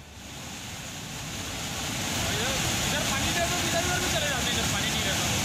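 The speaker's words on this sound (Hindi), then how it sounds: "राज्य की इंद्रावती नदी पूरे उफान पर है, जिसका पानी पहाड़ से गिरने के बाद झरने की तरह तब्दील होता दिखाई दे रहा है।" The flooded Indravati river pours off a hillside like a waterfall, a broad, steady rushing roar that swells slightly louder after the opening seconds and then holds constant.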